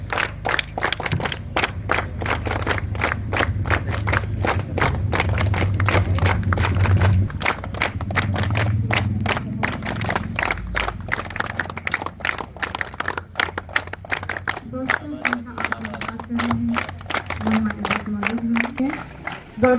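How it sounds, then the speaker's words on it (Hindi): Audience applause at a government higher secondary school event in Barwal, a steady crowd of claps running throughout, joined by murmuring and a talking voice later on. "जोरदार तालियों से इनका स्वागत है"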